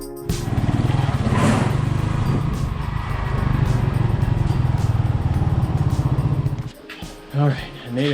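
A motorcycle engine runs steadily and close over rough land in the Philippines, a continuous mid-pitched drone that cuts out near the end, leaving a few brief sounds.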